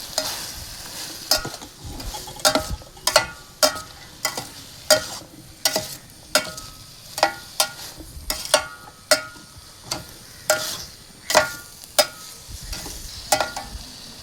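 Chicken roast with onions, green chillies and mustard seeds is stirred in a hot pan, with a steady run of sharp spoon scrapes and clanks about every half second over a soft, continuous sizzle.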